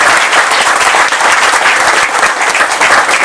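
A crowd at a job fair inauguration in Acapulco claps loudly and close, the dense applause pulsing slightly as it continues unbroken throughout, with no speech over it.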